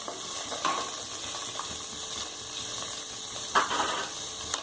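Curry leaves and onions fry in a pan for mutton leg soup, giving a steady sizzling hiss with a few clicking stirs and scrapes, close and constant.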